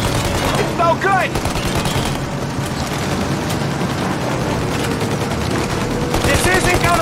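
Rapid gunfire aimed at a plane's engines in the video game Mafia Definitive Edition, a dense continuous barrage with shouted voices and engine roar mixed in throughout.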